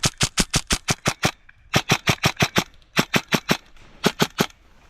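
An airsoft gun with an upgraded gearset fires on full auto in several rapid bursts of crisp, loud, evenly spaced cracks, each burst separated by short pauses.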